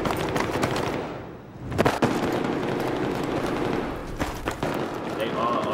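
Gunfire and explosive bursts crackle in a Battlefield 3 battle on Xbox One, a dense, continuous barrage with sharp cracks around two and four seconds, some shots coming from below.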